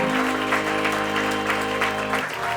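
An audience at a live literary talk-show event claps in a steady, full round of applause that holds at even loudness, with a faint low hum beneath it.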